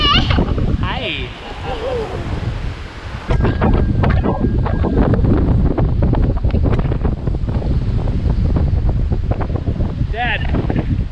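Strong wind buffets the microphone on a walk during an extreme wind warning, a loud, continuous roaring rumble that swells louder midway and stays heavy, with a few brief voices breaking through near the start and end.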